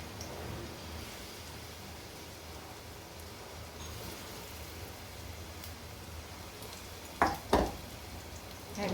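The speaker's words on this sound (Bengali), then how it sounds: "এভাবে সব পকোড়াগুলো ভেজে নেব" Corn pakoras deep frying in hot oil, giving a continuous crackling sizzle like light rain, with two brief sharp clatters near the end.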